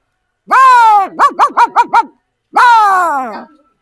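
A voice imitates a dog barking in Assamese vocal mimicry: a long growling bark, a quick run of five yapping barks, then another drawn-out howling bark, loud and close with no other talk.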